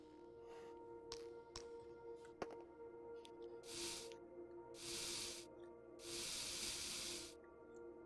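A WD-40 spray can in the video game Into the Radius, a few faint hissing bursts of about a second each, among quiet clicks and a low background hum.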